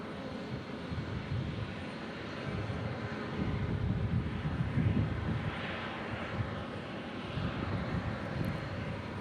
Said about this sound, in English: Delta Connection arriving here from Minneapolis